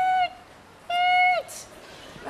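Two clear whistled notes from whistling ducks, each a steady tone ending with a slight downward slur, separated by a short pause; could be a person imitating ducks.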